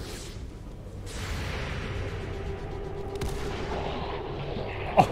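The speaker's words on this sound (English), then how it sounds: "Oh, long range shotgun." Gunfire from a long-range shotgun in the video game XCOM 2: a few sharp blasts and whooshing bursts over a busy game soundscape, with a final crisp crack near the end.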